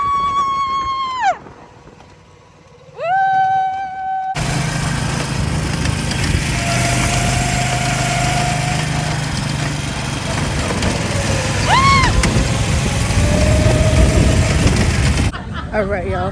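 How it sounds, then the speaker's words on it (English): Small go-kart engines whine and drone steadily during a go-kart race at a Puerto Rico track, loud and close with pitch sweeps as karts pass, at first under a voice with wind rumble. "We're about to go go-kart racing."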